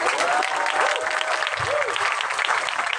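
Youth camp audience clapping together in a hall, a dense, sustained round of applause heard fairly close, with faint voices mixed in.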